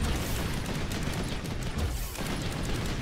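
Dense, continuous gunfire rattles in Planetside 2 game combat, a loud unbroken barrage of rapid shots layered over one another.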